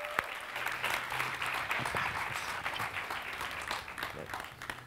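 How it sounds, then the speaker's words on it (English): Audience applause at an international science-communication semi-final, a steady sustained wash of clapping for about five seconds with no talk over it. "So round of applause for Natalie Christopher."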